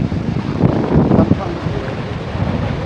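Strong wind buffets the microphone at Ratnadurg Fort on the Arabian Sea coast near Ratnagiri, Maharashtra, giving a loud, continuous broadband roar that swells briefly near the middle.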